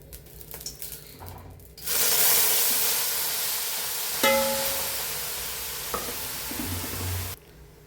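Rice dropped into hot oil for a Kerala-style biryani, bursting into a loud, steady sizzle and hiss with occasional stirring scrapes, running for several seconds before cutting off.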